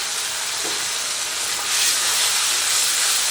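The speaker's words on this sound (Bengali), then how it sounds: "ওই টমেটো পেস্টটা দিয়ে দিচ্ছি।" Tomato paste hisses and sizzles steadily in a hot pan over fried ginger and garlic, a broad close-up crackle that grows slightly louder partway through.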